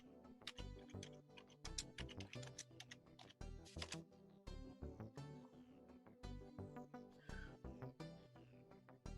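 Computer keyboard keys typing in quick, irregular bursts of close clicks and clacks with brief pauses, nearby and alone.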